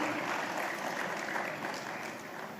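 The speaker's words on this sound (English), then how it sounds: "A huge round of applause for Arundhati Bhattacharya, ladies and gentlemen." Audience applause for a presenter at a business awards ceremony, a broad, even wash of many hands clapping that holds steady at a moderate level from start to finish.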